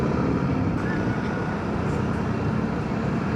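Road traffic in Pasig heard from a moving ride, a dense, steady roar of engines and tyre noise with a continuous rumble and no clear pauses.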